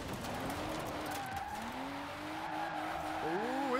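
A BMW M2 Coupe in rear-wheel drive runs downhill on a mountain road in Forza Horizon 4, its engine note rising and falling through gear shifts, with tire squeal and skidding as it slides through corners, steady and moderately loud.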